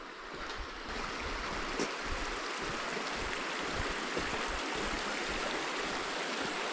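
A river stream in Tasmanian rainforest back country, with steady, full rushing and burbling water close by and nothing else heard.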